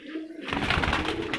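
Rooftop pigeons in Mianwali coo close by in hot weather, a burst of throaty cooing starting after a brief quiet moment and continuing loudly.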